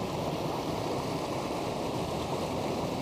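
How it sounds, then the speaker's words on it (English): Creek below a farm reservoir, running high after the water came down, rushing steadily and close with a dense, unbroken broadband roar for the whole stretch and no voices. "This is the creek below the number one reservoir on the Korean farm"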